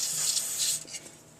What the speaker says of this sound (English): Just spray it right in the opening there.